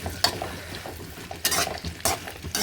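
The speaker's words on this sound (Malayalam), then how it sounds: "നമ്മുടെ സവാളയും നമ്മുടെ വഴുതനങ്ങ എല്ലാം നല്ലോണം തട്ടിയിട്ടുണ്ടെങ്കിൽ നമുക്ക് നല്ലോണം മിക്സ് ചെയ്തെടുക്കാമേ" Onion and brinjal are stirred in a sizzling frying pan, with a utensil scraping in several distinct strokes over a steady frying hiss, close and fairly loud.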